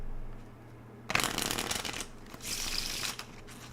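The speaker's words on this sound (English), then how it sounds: "Shuffled in front of you." A deck of playing cards is shuffled for blackjack, with a sharp riffle burst followed by a second softer riffle, close and clear with no talking.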